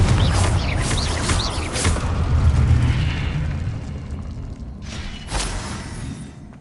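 A Confringo spell blasts in the Hogwarts Legacy video game, a loud, booming explosion with rumbling bursts that fade and then a second sharp blast near the end, heard alone without speech.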